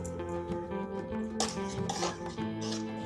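A spoon scrapes and clinks against a pot while mixing raw green mango chutney with a pinch of turmeric, a steady quiet metallic stirring with a few louder knocks, no voices.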